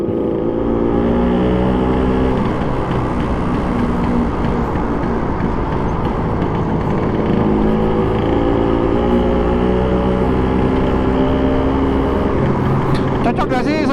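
A 1962 Vespa VBB scooter with a four-speed gearbox is ridden, its engine droning loud and steady with shifting tones and wind rush, while a voice talks intermittently over it.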